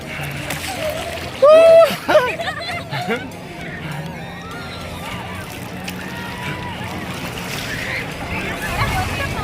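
Sea waves wash onto the beach at Ganpatipule on the Konkan coast, with a broad surf wash and wind. People talk and call out nearby over the water sound.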